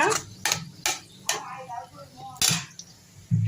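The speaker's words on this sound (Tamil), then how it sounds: "நல்லா கிண்டுவோம் தீயை குறைச்சி வச்சு கொஞ்ச நேரம் இப்படி கிண்டிக்கினீங்கன்னா கட்டியாகிடுங்க" Ragi batter stirred in a pan over a low flame, with a spoon scraping and tapping the pan in a few sharp, evenly spaced clinks over a faint background, with a voice talking underneath.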